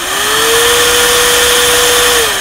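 An Opolar electric air duster runs after a battery replacement, giving a steady motor whine with a rushing airflow hiss that rises slightly in pitch as it spins up and dips as it winds down at the end, close and loud with no talking.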